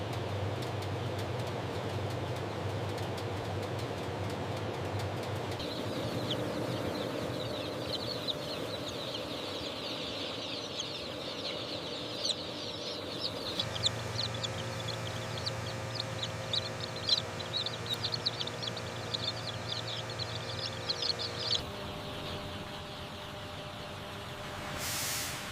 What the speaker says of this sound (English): Female chicks are packed in ventilated cardboard boxes